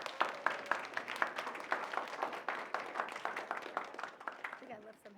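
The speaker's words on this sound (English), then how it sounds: "Can we have a round of applause?" Applause from a lecture class, a steady patter of many hands clapping at moderate volume for several seconds, tapering off at the end as a voice begins.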